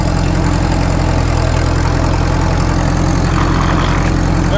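A Caterpillar D2 bulldozer engine that had sat for 20 years runs steadily nearby, a loud, even low diesel chug with a fast regular pulse and mechanical rattle, unbroken throughout.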